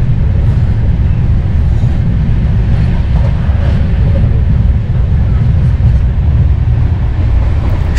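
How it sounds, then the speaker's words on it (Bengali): A moving train on an overnight journey toward Darjeeling, its steady low rumble and rolling rattle filling the carriage continuously and loudly throughout, with no clear talk over it. "Good morning from ongoing train journey."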